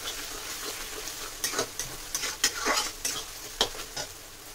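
Onion nearly fried in a pan for chicken biryani, with a soft sizzle under a run of close, distinct spoon-stirring scrapes and clatters.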